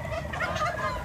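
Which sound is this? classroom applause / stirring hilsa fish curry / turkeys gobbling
turkeys gobbling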